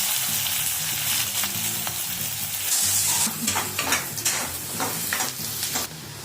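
Chopped onions sizzle and crackle steadily in hot oil, with a utensil stirring and scraping through the pan now and then, close up and continuous.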